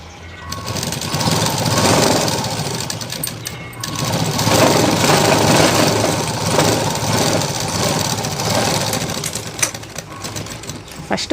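Sewing machine stitching a shape belt, starting from the hook-and-buttonhole strip side, running loud and steady in two long bursts with a short pause between them.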